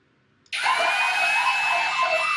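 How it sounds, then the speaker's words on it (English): An electric drill with a 5/32 bit whines steadily as it bores into a broken pinch bolt on a Harley Softail motorcycle, starting abruptly and running loud and continuous to the end. "I'm going to try to drill it from the back side in an effort to get it to screw back out"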